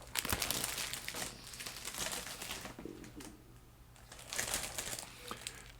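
Plastic packaging crinkles and rustles in bursts while a 1/16 scale Lamborghini Miura P400 model kit is unpacked, close and moderately loud, with quieter handling between bursts and no talk.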